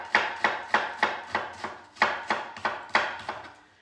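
A knife slices an onion thinly on a chopping board for onion bhaji, about a dozen evenly spaced, crisp close-up cuts in a steady rhythm, with no voices.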